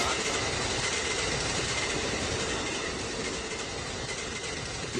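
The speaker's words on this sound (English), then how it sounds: "Oh, there's a train." A train rolls steadily past, filling the whole stretch with a dense, continuous rumble and rattle of cars and wheels on the rails, loud and unbroken throughout with no voices over it.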